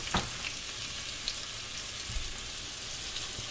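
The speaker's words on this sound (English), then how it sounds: "And I'm gonna add these two medium chopped onions" Chopped onions, two medium, sizzle and crackle steadily in hot oil with cumin seeds for a bitter gourd masala, a continuous close frying hiss with a few small pops.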